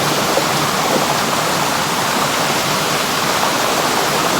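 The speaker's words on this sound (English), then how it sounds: "providing all of the flow for, most of the flow for the water going over the top of the waterfalls" Water pouring over the top of waterfalls, a steady, dense, unbroken rush that stays at an even loudness throughout with no voices.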